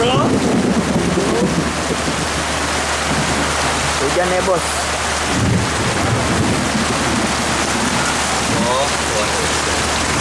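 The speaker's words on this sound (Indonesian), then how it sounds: "Hujan ya bos." Heavy, continuous rain pouring down close by, with a brief voice exclaiming once over the downpour.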